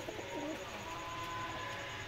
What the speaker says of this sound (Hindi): ये मैं रात को कबूतर लाया था,